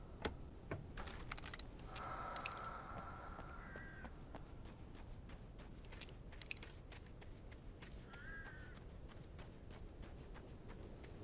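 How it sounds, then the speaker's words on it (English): Birds caw a few times in the video game Alan Wake, harsh cries at a middling distance among steady clicking and tapping, with a quiet background hum throughout. "Birds."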